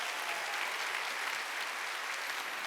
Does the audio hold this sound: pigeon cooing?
no